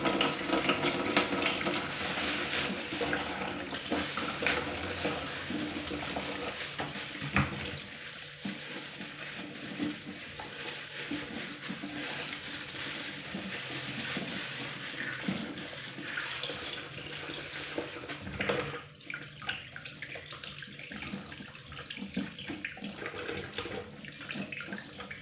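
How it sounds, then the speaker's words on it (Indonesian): Mackerel scad is rinsed under a running kitchen tap. Water splashes continuously and fairly quietly throughout, with occasional clatter and handling noises. "saya mau cuci ikan dulu ya teman-teman"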